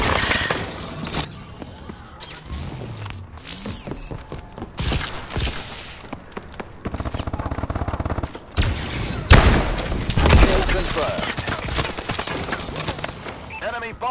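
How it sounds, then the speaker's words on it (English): A bombing run in Call of Duty: Advanced Warfare sets off a dense stretch of loud, rumbling blasts mixed with rapid gunfire and a game announcer's voice, with heavy bursts clustered toward the end. "Bombing run overhead."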